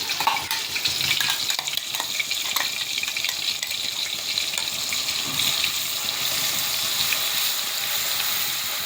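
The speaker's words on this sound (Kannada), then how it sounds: "ಸೊ ಈ ಥರ ಹಿಂಗೆ ಎಣ್ಣೆಗೆ ಅದು ಫ್ರೈ ಮಾಡಬೇಕು." A ground paste of chili, garlic and salt fries in hot oil, giving a steady, bright, crackling sizzle that runs unbroken and fairly loud throughout.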